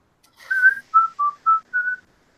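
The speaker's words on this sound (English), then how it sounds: "I like to whistle. I whistle while I work." A person whistles a short tune of five clear, distinct notes, the first longer and rising, the rest brief and evenly spaced, solo with no other sound around it.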